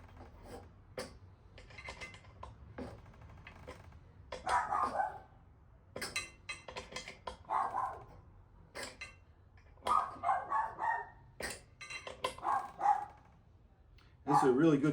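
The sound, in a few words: dog barking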